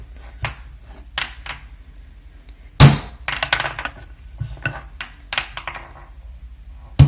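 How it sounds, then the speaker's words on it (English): A lump of pottery clay is slammed onto a table during wedging, giving heavy, close thuds at irregular intervals, one especially loud, with lighter knocks and handling noises between them. "Slam it down again."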